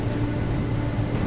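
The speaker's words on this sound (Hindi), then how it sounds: "बारिश अब और तेज हो चुकी थी" Steady, dense rain roars continuously with a low rumbling undertone, constant and loud throughout with no pauses.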